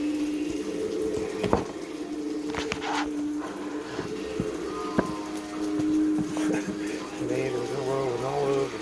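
Tap water runs steadily into a sink while tomatoes are rinsed under it during vegan cooking, with a few clatters and knocks and some talk over the flow.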